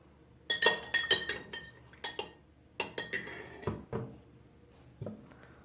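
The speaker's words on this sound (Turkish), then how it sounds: "Şöyle kaşığımla sıyırıp" A metal spoon scrapes and clinks against a glass of water while set honey is stirred in, giving a dozen or so crisp, separate taps and scrapes at close range with no talk.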